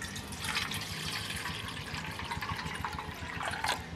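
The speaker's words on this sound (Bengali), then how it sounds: "একটা পাত্র নিয়েছি, পাত্রের মধ্যে জল দিয়ে দেবো" Water is poured into a bowl in a home kitchen, ahead of salting for a raw green mango murabba, making a steady, close splashing and gurgling stream that runs for the whole stretch with no talk.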